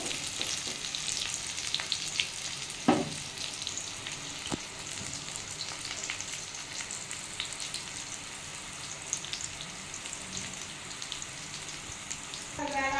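Continuous crackling of pointed gourd frying in oil, with a couple of sharp utensil clinks and occasional stirring.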